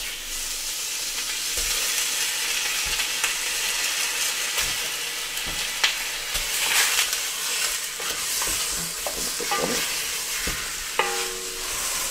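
Oxtail pieces sizzling loudly in a hot pan with coriander and other spices, with steady frying hiss and repeated scraping, knocking stirs throughout, no talking.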